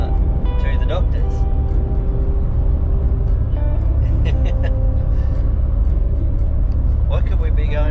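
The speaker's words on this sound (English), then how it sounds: "Alright, so we're driving in the car to the doctor's." Inside a car on a farm-country drive to the doctor's, a loud, steady low engine and road rumble fills the cabin, with voices talking over it throughout.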